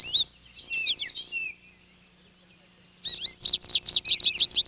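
Goldfinches in dull olive-green winter plumage chirp at a backyard feeder, giving quick bright twittering calls in a short burst, then a pause, then a rapid run of repeated close, clear notes.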